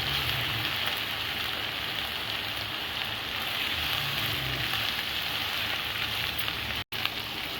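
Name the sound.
ginger garlic paste frying in a pan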